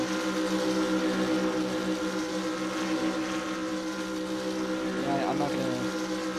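A race car engine revs continuously as the stuck car tries to rock free, a loud droning roar with wavering pitch and wind buffeting, while a voice speaks briefly over it.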